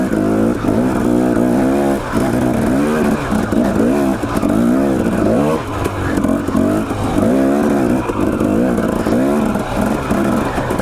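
A dirt bike motorcycle rides on mountain trails in Idaho, its engine droning continuously with repeated throttle rises and falls close by, joined by wind buffeting.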